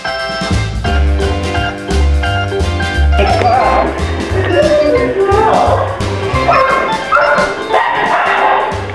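A dog at a grooming spa barks and whimpers amid loud, busy background noise, with music or voices mixed in under the yips.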